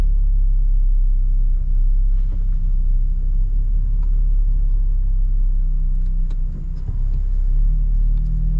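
Interior rumble of an MQB-platform car with a tubular front subframe and control arms, driving on the road: a loud, steady low drone of engine and road noise with faint occasional knocks, no speech.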